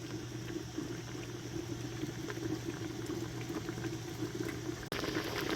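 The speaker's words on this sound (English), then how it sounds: "So it's boiling on medium-high." Peach preserves at a rolling boil on a stovetop set to medium-high, a dense, continuous bubbling with a steady low hum beneath it and one brief dropout near the end.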